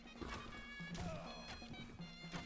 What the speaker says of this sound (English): Let me go get my horse.